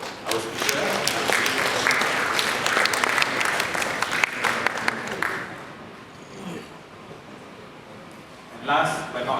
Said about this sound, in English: another round of applause for all our speakers and sponsors for today